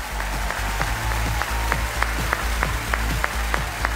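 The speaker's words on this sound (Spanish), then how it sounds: "no podemos dejar de entregarles este aplauso a cada uno de nuestros participantes" Applause from a dance competition show audience for the participants, dense sustained clapping from a large crowd with a few sharp, distinct claps popping out near the front, steady and loud throughout.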